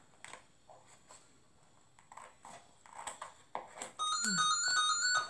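A phone rings near the end: a loud electronic melody with repeated tones that begins suddenly and holds to the close, after a stretch of quiet tapping and handling sounds.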